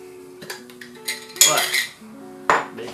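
Food is scooped into a pan while cooking kimchi soft tofu stew, with a few metal-on-pan clinks and scrapes in quick succession, close and fairly loud.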